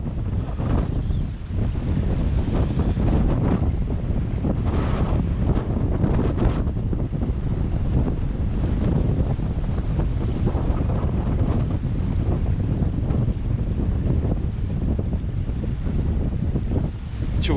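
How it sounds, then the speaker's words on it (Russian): Strong wind buffeting the microphone with crashing waves underneath, on a shore by a shipping channel during feeder fishing at rising tide, a loud, unbroken roar throughout. "Ветер, волны."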